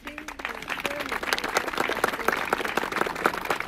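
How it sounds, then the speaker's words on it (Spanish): An audience applauds to welcome people at an indigenous supreme chief's swearing-in ceremony in Zinacantepec, steady group clapping building over a few seconds, with a voice briefly heard at the start. "¿Les parece bien que los vayamos recibiendo con un aplauso?"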